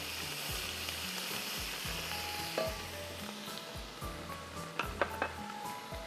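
Ginger garlic paste sizzles in a pot under a low rhythmic hum, with spoon scrapes and a few metallic clinks against the pot near the end, no talking.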